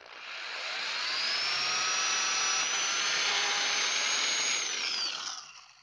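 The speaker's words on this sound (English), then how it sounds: "I drill this all the way through." A power drill with a 9/64 bit bores through a hole in a backbone, whining high and steady as it ramps up, holds for several seconds, then winds down alone.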